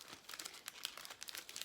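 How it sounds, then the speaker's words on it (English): Tissue paper crinkles softly in quick, irregular rustles as it is pressed into the bottom of a holiday fruit and snack gift basket. The sound is faint and close, with no talking. "first you want to put in some tissue paper in the bottom of your"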